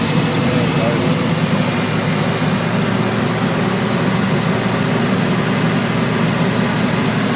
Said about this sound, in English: Very even, lovely engine.